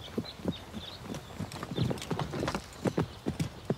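A ridden horse's hooves clip-clopping at a brisk, irregular pace, sharp close hoof strikes repeating throughout with faint high chirps in the background and no speech.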